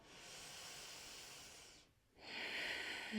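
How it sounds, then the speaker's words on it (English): A yoga student takes a slow breath during a beginner session, a long, airy inhale close to the microphone, a brief pause, then a louder, hissing exhale, with no speech. "Take a breath here, in and out."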